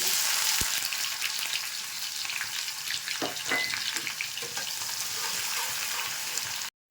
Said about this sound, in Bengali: পেঁয়াজটা ভাজা হয়ে গেছে একটু